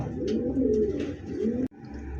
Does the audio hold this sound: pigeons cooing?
yes